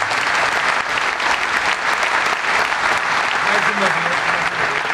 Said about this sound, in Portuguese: uma grande salva de palmas para o Rui Xará